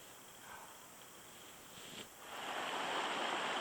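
A creek flows in a wilderness park near Whitehorse, giving a steady broadband rush that swells louder partway through, with faint insect-like chirps in the background and no voices.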